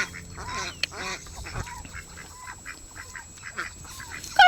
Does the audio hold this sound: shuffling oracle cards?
no